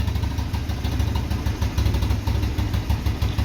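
Engine of a Yerfdog Scout compact utility vehicle running outdoors, a low, steady chugging throb with a fast even pulse, close and loud, with no talking over it.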